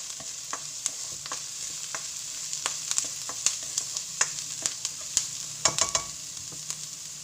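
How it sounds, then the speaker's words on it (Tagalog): Garlic and onion browning in a frying pan for pork pata kare-kare, a steady bright sizzle broken by repeated sharp clicks and scrapes of a utensil stirring, close and alone without voices. "So ayan, nagbo-brown na ang ating bawang at saka sibuyas."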